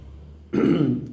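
A man gives one short, gruff cough or throat-clear near the end of a quiet pause, apparently imitating the sound while telling a story.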